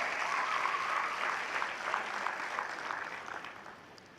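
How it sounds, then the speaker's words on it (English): An audience at a technical school graduation ceremony applauds, a broad wash of clapping that starts full and gradually thins and fades toward the end, heard from a moderate distance in a large room. "Give them all again a round of applause."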